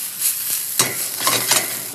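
Garlic and shallots sauté in olive oil and butter in a pan, a steady close sizzle broken by a few scraping stirs, with no voices.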